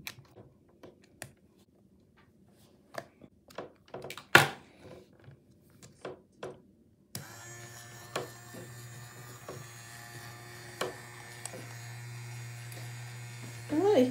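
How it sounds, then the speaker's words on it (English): A small fast-spinning electric motor in a motorised robot head STEM kit whirs steadily with a low hum once switched on, following scattered clicks and taps of handling; faint talk is heard nearby. "Up and down motion and side to side motion, quite slow, all from a fast spinning motor"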